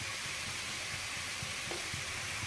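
Salted carrots and beans sauté in a pan with a soft, steady sizzle and faint stirring scrapes, close but quiet and unbroken.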